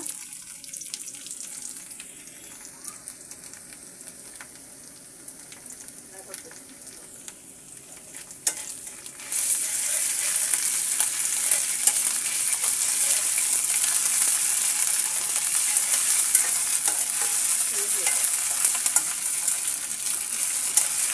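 Ginger garlic paste frying in a pan, with a quiet crackle that turns into a much louder, hissing sizzle halfway through, and faint voices now and then.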